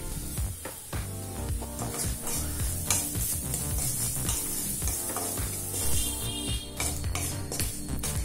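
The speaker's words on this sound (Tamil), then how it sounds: "இப்ப வெங்காயம் நல்லா வதங்கிடுச்சுங்க." Chopped onion, ginger and salt sizzling in a hot pan while being stirred for peanut rice, with a steady frying hiss broken by repeated scraping strokes, close and continuous.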